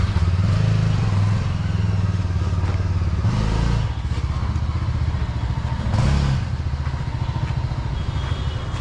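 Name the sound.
Yezdi Adventure motorcycle running, radiator fan spinning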